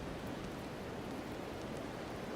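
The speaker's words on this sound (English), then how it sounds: "These rain sounds are weird." Rain in the online shooter PUBG falls as a soft, even hiss of drops on surfaces, faint and continuous with no other sounds above it.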